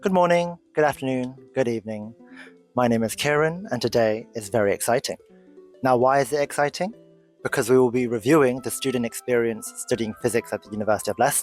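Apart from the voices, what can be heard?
No everyday noises stand out.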